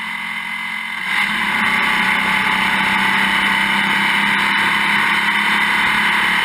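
A Historic Formula Vee race car engine goes to full throttle after a brief lift, its loud, steady buzzing drone jumping up and holding strong through the corner exit.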